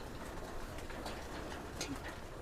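Homing pigeons cooing softly amid a steady background hiss, faint repeated low coos with no talking.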